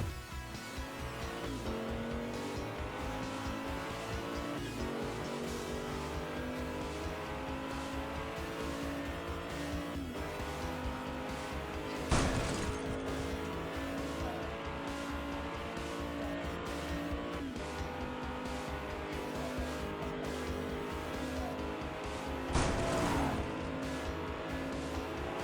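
Hot Wheels toy cars, a color-changing Donut Drifter and a green Acura NSX, race down a track with a steady rolling rumble throughout, broken by two brief sharp clacks of impact partway through and near the end.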